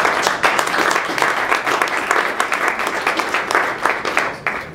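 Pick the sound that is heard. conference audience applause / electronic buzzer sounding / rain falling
conference audience applause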